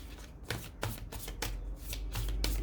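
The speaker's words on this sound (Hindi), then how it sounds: "कार्ड्स को थोड़ा शफल कर लेते हैं, फिर हम कार्ड्स निकालेंगे" Tarot cards being shuffled by hand, a run of soft riffling and slapping bursts repeating at a steady rhythm, close and fairly quiet with no voices.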